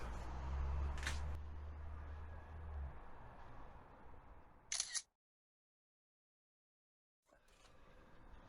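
Two sharp camera shutter clicks a few seconds apart over faint background noise, with a brief silence between them.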